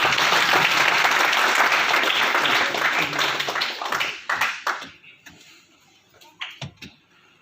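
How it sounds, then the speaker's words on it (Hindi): An audience at a Hindu organisation's gathering in Ujjain applauds loudly for several seconds, then the clapping thins into scattered individual claps and stray knocks before dying away. "आप सब अगर इस बात को स्वीकार कर दें ताली बजाइए फिर"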